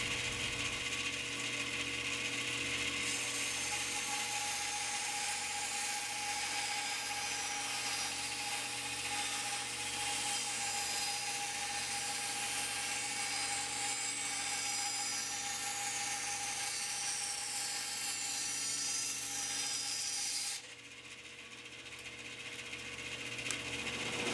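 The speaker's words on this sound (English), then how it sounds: "do my drilling and my cuts at the same time so they'll match" A steady, loud power-drill whine with a pulsing low rumble runs throughout while drilling holes in wood, then the pitch and level drop near the end as the tool eases off.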